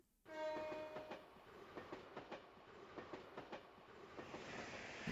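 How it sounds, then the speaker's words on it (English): An Imperial train in the video game Trails to Azure passes with a horn blast at the start followed by a rhythmic run of clickety-clack wheel beats, steady and fairly close, with no talking. "A train from the Empire."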